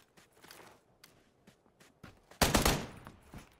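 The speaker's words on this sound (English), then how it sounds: "Who's shooting at me?" Gunfire in the battle royale game PUBG: faint footsteps and a few soft taps, then a loud close burst of rapid shots that rolls on for about a second before thinning out.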